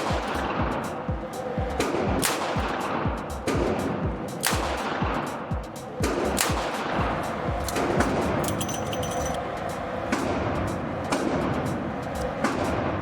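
Repeated gunfire from a Smith & Wesson M360J revolver shooting .38 Special at a range, sharp loud reports at irregular intervals over a continuous background of other firing nearby.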